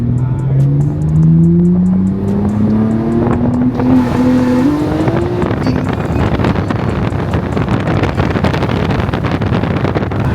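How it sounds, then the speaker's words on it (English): Rear-wheel-drive BMW G80 M3 Competition running anti-lag, a loud close engine drone climbing in pitch with dense crackling pops and bangs from the exhaust, buffeted by wind noise throughout. "It's the anti-lag right here."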